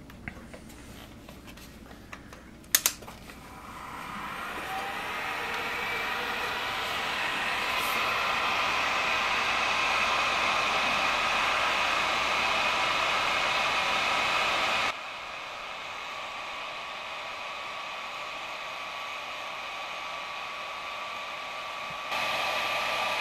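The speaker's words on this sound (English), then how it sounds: "let's get the heat gun going here now" A heat gun blows steadily while drying glue on a model ship, a continuous airy hiss that rises in after a couple of sharp clicks, holds at moderate level, then drops slightly quieter near the end.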